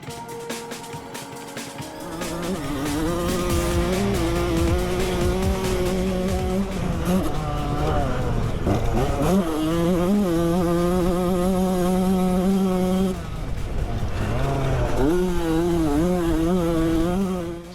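A 1987 Yamaha YZ125 two-stroke dirt bike screams through a hot lap, its engine buzzing high and revving up and down with gear changes, loud and close, with a brief dip mid-run.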